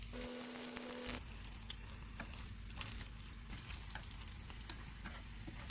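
Sliced green leek sizzling and frying in a pan with extra oil and ginger slices, for braised tofu; a steady, close crackling sizzle runs throughout after a brief quieter moment at the start, with no voices.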